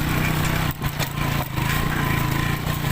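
A motocross-style motorcycle engine runs loud and close, a steady buzzing drone with a couple of brief dips in revs, on a rough trail.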